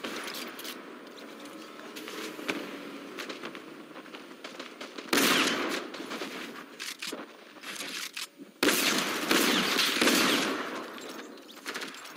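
Bursts of rapid minigun fire in a team rumble video game, sustained rattling volleys that stop and restart, loud and close with brief quieter gaps between them.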